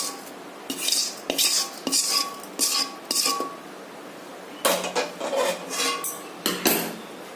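A metal spoon scrapes and clinks against a pot as rice is stirred into boiling milk with crushed cardamom and a pinch of salt for Bengali payesh, in short rhythmic bursts with brief pauses.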